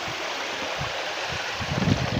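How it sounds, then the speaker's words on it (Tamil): A continuous hiss of water sprayed through a sieve onto farm soil as fertilizer, pattering down steady and close, with a slight swell near the end. "இந்த ஜல்லடையை வச்சு நம்ம தெளிச்சு விட்டுருக்கோம்"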